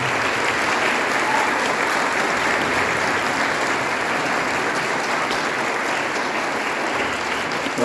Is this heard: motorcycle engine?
no